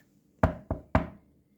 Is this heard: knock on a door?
yes